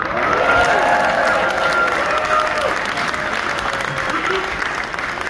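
Sustained audience applause for a ship's crew member aboard the cruise ship Wonder of the Seas, steady dense clapping with some cheering from a crowd at close range, a voice faintly audible underneath.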